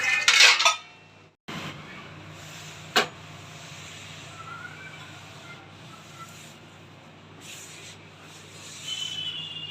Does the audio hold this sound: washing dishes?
yes